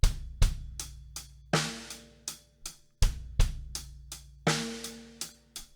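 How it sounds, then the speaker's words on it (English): A drum kit plays a two-handed sixteenth-note pattern with bass drum hits on 1 E and 3 E, sharp repeated strikes in a steady rhythm with cymbal wash on some beats, close and clear with no talking. "This one, our bass drum's on 1 E and 3 E."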